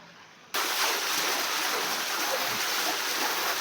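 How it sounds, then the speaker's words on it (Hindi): Water rushes steadily beneath a panchakki watermill as it turns the millstone, a constant broadband roar after a quieter opening half-second, continuing unbroken at moderate loudness with no voices. "नीचे पानी से चक्की घूमती है।"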